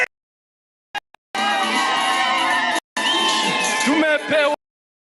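Crowd at a Kenyan election rally in 2022 erupting in loud, sustained high-pitched ululation and cheering after a brief shout, two long bursts of massed trilling voices close by.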